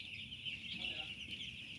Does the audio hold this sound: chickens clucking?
yes